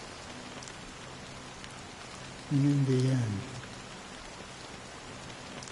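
Steady rainfall in the game Honkai: Star Rail, a constant hiss of drops on surfaces that runs throughout, with a voice briefly speaking over it in the middle.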